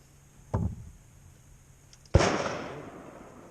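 Two sharp pistol shots at target practice, the first a short crack and the second about a second and a half later, louder and ringing out with a decaying echo, no talking.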